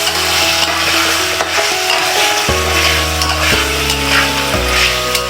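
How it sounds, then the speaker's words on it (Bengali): Cut potatoes frying in oil with spices for a Bangladeshi prawn-ball vegetable dish, a loud, steady sizzle close by, partly masked by background music with sustained notes. "মশলা সাথে আলুটা আগে ভাজা নেই"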